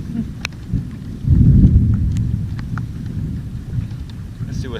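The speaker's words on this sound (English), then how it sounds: "There's a little bit of thunder," A low rumble of thunder rolls in over steady rain during a storm out on the water while bass fishing, the rumble swelling suddenly and then fading under the patter of drops.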